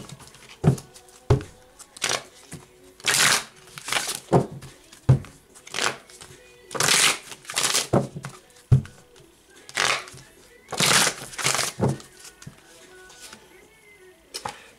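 Unicorn oracle cards are shuffled in repeated bursts of papery riffling and slapping, close and fairly loud, with brief pauses between handfuls.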